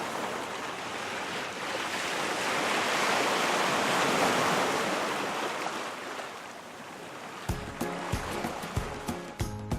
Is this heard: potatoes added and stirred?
no